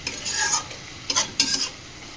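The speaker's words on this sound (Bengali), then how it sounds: "এবার এইটা খুব ভালোভাবে কষিয়ে নিচ্ছি" Masala with turmeric and salt fried and stirred in a pan for a rohu fish curry, with a steady sizzle broken by several scraping spoon strokes, close and moderately loud.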